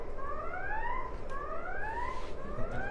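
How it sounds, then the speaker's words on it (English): A phone rings during a talk on Jeremiah, chapters 31 and 32, giving a repeated electronic warble in rising sweeps over a steady room hum, heard alone without speech. "Oh, that's a phone."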